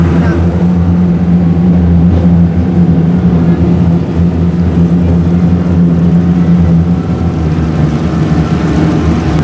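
A loud, steady motor drone rumbles throughout from a motorized raft carrying passengers across water to an island at Magic Kingdom, with constant low churning noise.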